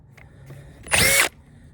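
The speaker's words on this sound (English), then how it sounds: "in this treated lumber here that I'm drilling this into" A Metabo HPT KC18DEX cordless drill bores a big bit into treated lumber in one loud, whining burst of about a third of a second, then stops, with quiet surroundings before and after.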